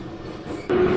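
A metro train runs along its track with a low rumbling roar that swells louder near the end, steady and close inside the carriage, no voices.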